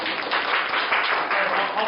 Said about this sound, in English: round of applause for Darko